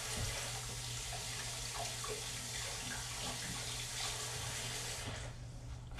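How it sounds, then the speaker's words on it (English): Tap water runs steadily into a sink while a lemon is washed under it, a moderate continuous splashing hiss that thins out near the end, with no voices. "let's go ahead and wash the lemon real quick"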